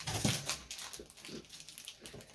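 A dog whimpers at a door, a run of soft, high, uneven whines and yelps at close range, with faint rustling around them.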